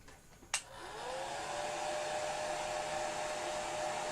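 Blow dryer clicking on, then running in a steady, fairly faint whir and hiss that holds even to the end, with no voices.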